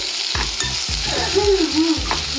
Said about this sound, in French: je fais rissoler en tout petits morceaux mon oignon jaune et mon oignon rouge